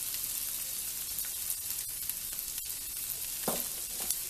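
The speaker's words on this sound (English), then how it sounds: "And then now we're going to put the shredded cabbage. Shredded carrots and celery." Shredded cabbage, carrots and celery hit a hot pot for Kalua pork, making a steady, close sizzle throughout with a few soft stirring clicks and no talk.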